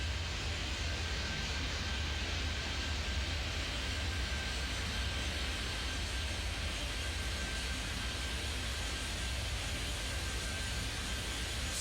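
Jet airliner rolling for takeoff on runway 26 in the airport simulation game Airport Madness 3D, a steady, continuous engine roar with a thin high whine running through it, loud and unbroken, no voices.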